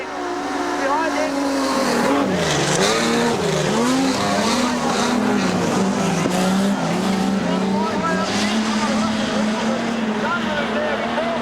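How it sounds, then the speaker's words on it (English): Race cars, including a big Ford XF Falcon, roar around Kingaroy Speedway in a Modified Production Challenge race, engines loud and continuous with revs rising and falling and tyres squealing, while a commentator talks over them. "Halley now works the the big XF Falcon up behind the Queensland champion."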